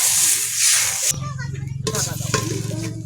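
A pan of mixed garden greens with shrimp hisses loudly, then water goes in and the hiss turns into a rapid bubbling sizzle, with a voice speaking over it.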